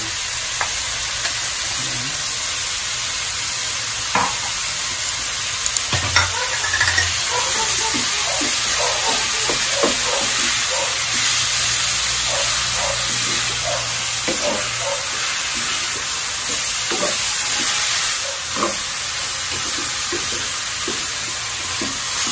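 Ground beef frying and being stirred in a pan for picadillo, giving a steady loud sizzle with hiss and scraping stir sounds throughout, no voices.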